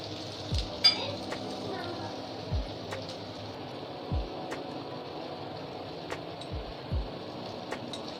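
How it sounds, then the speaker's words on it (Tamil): Paneer sizzling in hot oil in a pan, with a soft steady frying hiss and a few clinks of a spoon stirring against the metal at close range. There is no talk. "இப்போ பன்னீரை கொஞ்சம் வறுத்து எடுத்துக்குவோம்."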